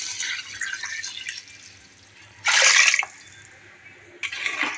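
Water is poured from glasses into a pot for seeragam samba biryani, with a splashing gush in the middle and another pour near the end over a faint hiss.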